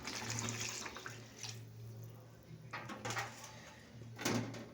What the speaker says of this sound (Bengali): তো এবার আমি জলটা ঢেলে দেবো।